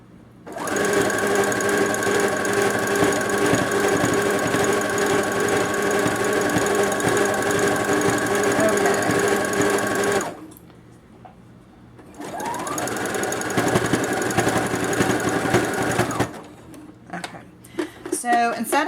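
A sewing machine runs a zigzag seam on stretchy underwear fabric, stitching steadily for about ten seconds, pausing briefly, then stitching again for a few more seconds before stopping.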